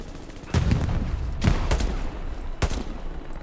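Gunfire in the World War II shooter Hell Let Loose: several sharp, loud shots crack out at uneven intervals over a steady rumble of distant battle noise, with no voices.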